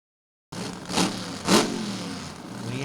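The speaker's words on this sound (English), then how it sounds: "Leanders' car, one of the most aggressive alcohol funny cars on the planet" An aggressive alcohol-fuelled funny car engine rumbles loudly from a distance after a brief silence, with two sharp surges of crowd or track noise over a steady roar.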